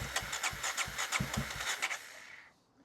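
A 1994 Honda XR650L motorcycle that has sat unstarted for 14 years cranks over. A quiet, rhythmic chugging of repeated starting strokes runs for about two seconds before it falls away without catching.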